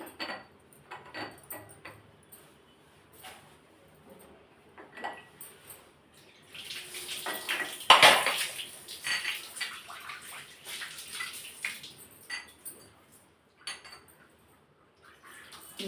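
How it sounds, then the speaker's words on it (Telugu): Water is changed in a vessel for a Mukkoti Ekadashi ritual, pouring and splashing in, swelling to a loud rush midway, with light metallic clinks and handling sounds before and after. "ఇక్కడ ఇగో నీళ్ళు మార్చేయాలి ఫ్రెండ్స్ ఎప్పటికప్పుడు నీళ్ళు మార్చుకుంటే బాగుంటుంది"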